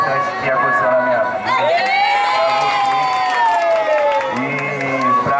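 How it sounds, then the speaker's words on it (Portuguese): Party guests at a daughter's birthday celebration in Cidade Tiradentes clap and cheer loudly in a steady, continuous crowd roar, with shouts and whoops rising over it and voices talking throughout. "Pode bater palmas aí!"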